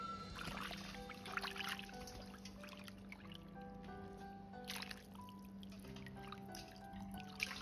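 Wood ear mushrooms being rinsed in water, a continuous close trickle and slosh with scattered drips and small splashes and no voices.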